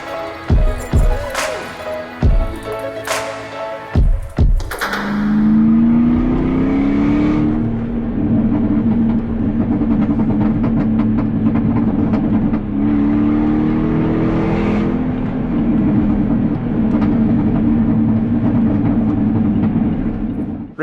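Range Rover Sport first edition with a supercharged 4.2-litre Jaguar V8 starting up after several sharp knocks, then a steady close engine note with rising revs that swell and settle twice, alone without talk.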